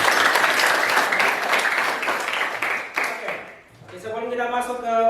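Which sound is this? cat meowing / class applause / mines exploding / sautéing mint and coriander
class applause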